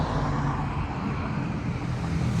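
Night traffic on a roadside gives a continuous, fairly loud broadband rumble and engine drone as vehicles pass close by, with no voices over it.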